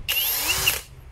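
A DCA 120 N·m cordless drill with 4 Ah battery spinning up, a loud high-pitched whirring motor burst lasting under a second before winding down, heard alone and close.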